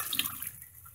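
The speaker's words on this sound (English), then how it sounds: "I'm going to have to take more water out" Water poured or scooped out of a pressure canner while canning carrots, a short splashing wash of liquid, fairly close and loudest at the start before easing off.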